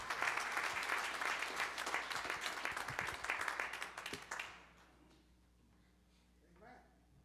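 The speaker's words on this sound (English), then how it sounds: "give God a round of applause for Olivia as she's come" Church congregation applauding a newly baptized member during a Sunday morning worship service, dense clapping for about four seconds that quickly fades to quiet room tone with a faint murmur.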